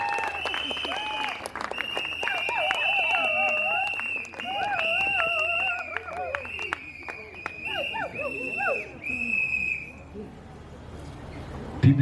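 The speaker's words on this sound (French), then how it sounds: "Je vais demander à ce couple de s'élever sous vos applaudissements" Wedding guests at a civil marriage ceremony in Boma applaud the couple, steady crowd clapping through most of the stretch under loud whistling and high calls, with voices mixed in before it dies down near the end.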